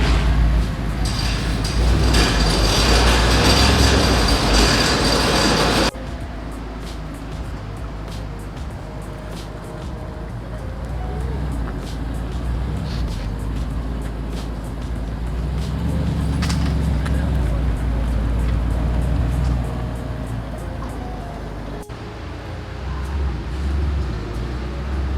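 Audi R8 fitted with new BC Racing coilovers out on a road drive: a steady engine and road rumble heard from inside the car, rising and easing with speed, with wind noise and someone speaking briefly.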